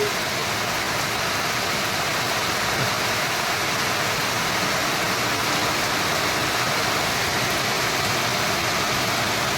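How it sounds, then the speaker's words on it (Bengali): Heavy morning rain pours steadily on a rooftop in a continuous, dense wash of noise with no breaks, fairly close and loud, with no voices. "দেখো কত বৃষ্টি হচ্ছে সকালবেলায়"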